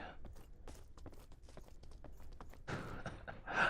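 Horse hooves clip-clopping in the video game Mortal Online 2, a faint, steady run of soft footfalls with a louder rustling burst near the end.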